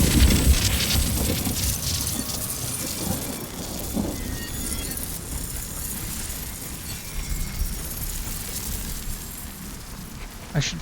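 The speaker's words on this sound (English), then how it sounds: "It never stops raining." Steady rain pours in a purple-tinted fey realm of the video game Nightingale, with low thunder rolling underneath and a few brief louder cracks, a continuous dense wash of sound throughout.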